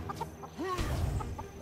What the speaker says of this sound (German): Ich habe ein Huhn gehört.